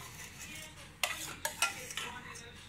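Chili paste with tamarind and palm sugar being pounded and stirred, several sharp knocks and scrapes of a pestle in a mortar over a quiet background.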